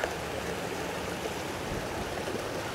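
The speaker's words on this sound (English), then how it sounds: "Black sand, always try and rinse those off good, make sure there's no gold hanging to it." Water steadily rinses black sand through a sluice-style separator for gold, a continuous broadband wash and trickle that stays even and moderately loud for the whole stretch with no talking.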